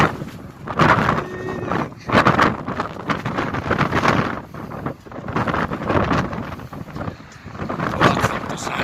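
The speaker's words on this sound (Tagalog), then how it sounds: "Sobrang lakas ng hangin." Strong gusting wind during a sandstorm, roaring and buffeting the microphone in loud irregular surges that rise and fall over several seconds.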